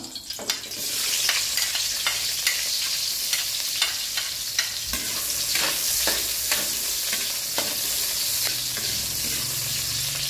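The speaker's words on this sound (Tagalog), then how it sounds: "Kapag mainit na ang cooking oil, ilagay ang sibuyas at bawang." Onion and garlic fry in hot cooking oil with a steady close sizzle, punctuated by repeated scraping stirs of a utensil against the pan.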